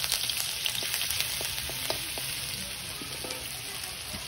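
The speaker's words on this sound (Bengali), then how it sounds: "এবার মাঝখানটা ফাঁকা করে তেলের মধ্যে পেঁয়াজ আদা রসুনটা দিয়ে দেবো।" Onion, ginger and garlic frying in hot oil in the middle of a pan of browned potatoes: a steady close sizzle with scattered clicks of spatula stirring, no talk.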